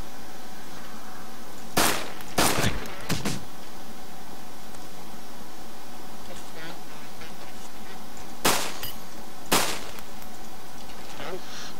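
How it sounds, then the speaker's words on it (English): Several sharp gunshots fired at zombies in DayZ, a quick cluster of three or four near the start and two more later, loud and close over a quiet outdoor ambience with faint background sounds. "Alright, I'm gonna be firing,"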